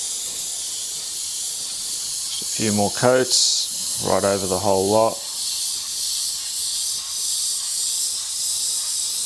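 An airbrush sprays candy blue paint onto skulls with a steady, close hiss running throughout, while a person talks briefly over it in the middle.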